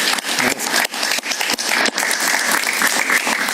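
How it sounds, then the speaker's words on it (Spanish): Studio audience applause for a guest on an evening talk show, loud and sustained clapping from a crowd filling the whole stretch, with a few sharp individual claps standing out and no talk over it. "Un aplauso para él, por favor."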